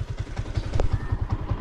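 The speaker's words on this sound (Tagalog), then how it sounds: "Ipapasok ko lang ka rin motor." A motorcycle being brought indoors chugs at a low idle, its engine putting out an even rhythm of throbbing pulses close by, with a faint clatter partway through and no speech.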